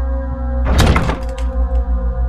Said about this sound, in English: There's a strange force locking the door.